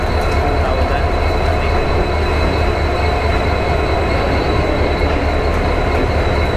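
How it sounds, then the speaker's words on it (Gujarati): The Salasar Superfast Express, hauled by two WDP-4B diesel locomotives, arrives at a station, rumbling loudly and steadily close by, with a continuous low roar of wheels and faint metallic squeals, no talking. "આપણી ટ્રેન આવી ચૂકી છે, હું તમને બતાવી દઉં"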